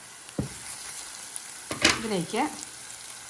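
Onion, ginger and garlic frying in a pan for an ash gourd dish, a faint steady sizzle with a few brief stirring scrapes, a short spoken word partway through.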